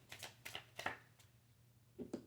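Tarot cards are shuffled in short bursts of riffling and flicking, four or five quick papery pulses close up, followed by a pause and a final pair of flicks.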